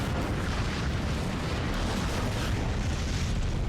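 Bombing in the strategy game Hearts of Iron 3, heard as a continuous dense rumble of distant explosions, booming and crackling without pause and without voices.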